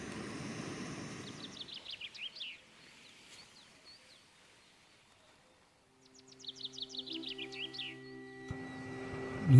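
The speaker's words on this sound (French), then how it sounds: "Nous nous réveillons et les oiseaux chantent déjà." Birds sing and chirp in the morning in the mountains, two bursts of quick, high twittering notes from fairly close by against a quiet background.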